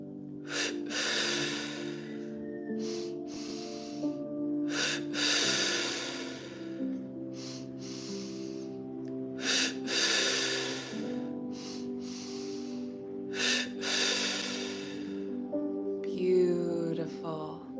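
Deep breaths are drawn in and released during a breathwork exercise, roughly seven loud, close inhales and exhales at a slow, regular pace over soft, sustained background music.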